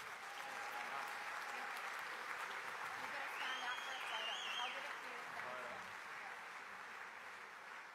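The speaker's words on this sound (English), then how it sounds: "Ladies and gentlemen, again, a round of applause for Jack Trengove." Audience applause at a memorial trophy award ceremony, a continuous, even patter of many hands clapping at moderate distance, steady for the full stretch with a slight fade near the end.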